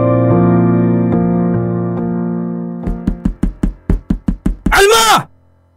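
Heavy pounding on a door, about eight loud rapid thuds in a rough rhythm, followed by a shouting voice, all over a low droning background tone.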